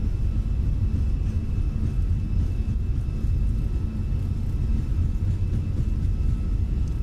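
Fenix A320 airliner engines spooling at takeoff thrust in Microsoft Flight Simulator, departing Ljubljana: a steady, loud low roar with continuous rumble holding evenly throughout, no voices.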